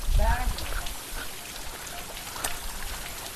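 A constant rush of water falling from a waterfall near Amrabad hisses throughout, with a brief voice near the start and faint talk underneath.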